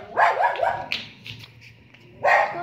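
A dog gives a few quick, close yelping barks, then pauses and lets out another sharp bark, with faint room noise between.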